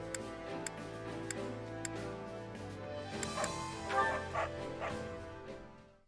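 Dog barking in the Fire Emblem Three Hopes video game: several short, sharp barks recur at intervals over steady background music and game sounds.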